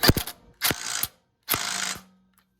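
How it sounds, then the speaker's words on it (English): Ratchet with a 19mm socket tightening a nut on a Motovox minibike, three quick loud bursts of close-up clicking separated by short pauses. "I'm using a 19mm socket to tighten this nut on here."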